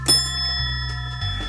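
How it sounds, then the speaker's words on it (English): A small hand bell rung once with a bright ding, its tone ringing on and decaying steadily, then struck again near the end. "In the meantime, I think it's time for a ding on this. There's my bell."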